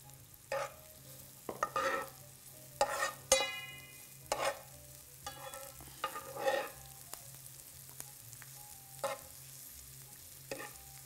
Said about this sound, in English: So we're gonna stir this for about 5 minutes or so.